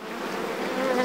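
Honey bees swarming close around an open log hive during a honey harvest, a dense continuous buzzing hum that grows slightly louder, with no talking.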